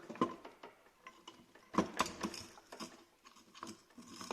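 Gearbox removal adapter being turned and set by hand, giving faint clicking and ratcheting metal sounds in irregular bursts, close and quiet with no talk.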